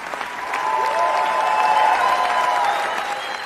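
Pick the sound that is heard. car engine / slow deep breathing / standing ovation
standing ovation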